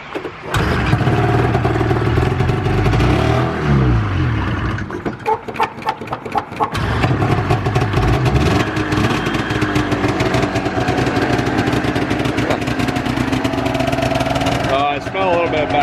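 A Ski-Doo 470 snowmobile engine runs loud and close, briefly dropping and catching again, then settles into a rough, steady idle as people talk over it.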